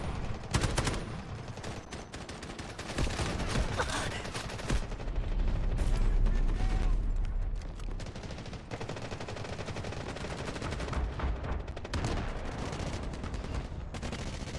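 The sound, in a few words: artillery barrage in a video game FPS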